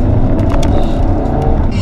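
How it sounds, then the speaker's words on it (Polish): Peugeot 308 GTI hot hatch engine while driving, a steady loud droning rumble with continuous road and cabin noise throughout. "to jest silnik bardzo, ale to bardzo wyrywny"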